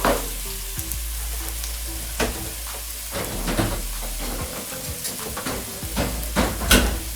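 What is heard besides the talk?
garlic and chicken being stir-fried in a pan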